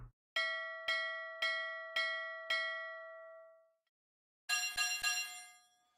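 A bell alert sound from the Stormworks game: five evenly spaced ringing bell strikes, each decaying, then a pause and a quick cluster of brighter rings fading out.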